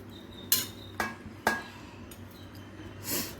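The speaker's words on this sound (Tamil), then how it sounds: "இப்போது நம்ம இதில் சாதத்தை மிக்ஸ் பண்ணிக்கலாம்" A metal spoon stirring cooked rice in a pan for garlic rice: three sharp scraping clinks against the pan in quick succession, then softer scraping, close and clear with no talking.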